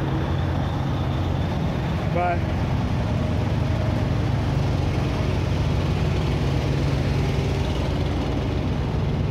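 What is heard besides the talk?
semi truck engine idling nearby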